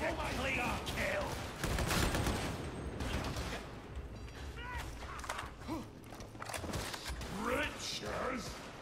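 Gunfire in a video game, a steady clatter of shots heard under a voice talking almost throughout.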